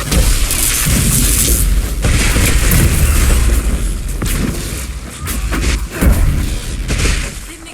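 A large explosion in Dragon Age Inquisition, with a loud, continuous booming roar, rumbling and crashing debris, and several heavier thuds and bursts across the clip.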